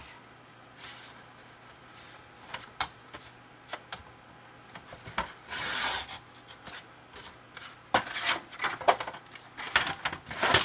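Scrapbook paper being cut for the flap of a small Tim Holtz-style folio: close, irregular rasping and rubbing strokes in short bursts, with no talking.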